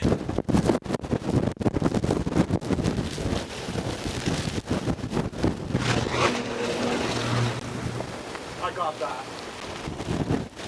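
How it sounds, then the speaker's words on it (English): Strong, sporadic gusts of tropical storm wind from Hurricane Milton buffet the microphone in loud bursts early on, easing to steadier blustery roar, with a person speaking briefly in between. "The wind is very sporadic, but when it gusts, it comes through, and it comes through in a hurry."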